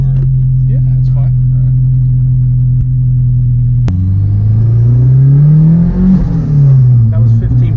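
Ford Mustang Fox Body with a turbo engine idling steadily, then revving hard under boost, the pitch climbing and falling as it pulls, loud and close, with cabin noise around it.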